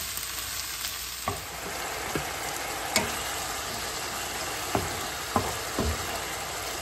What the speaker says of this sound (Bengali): দিয়ে দিলাম পেঁয়াজ, একটু বেরেস্তা করে নিব।